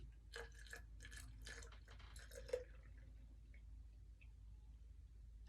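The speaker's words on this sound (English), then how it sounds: "And I take my bottle that I used to apply it and I just pour it in." Water is poured from a small plastic applicator bottle into a cup while preparing an acrylic Dutch pour painting, giving a faint, brief trickle with a few soft drips in a quiet room.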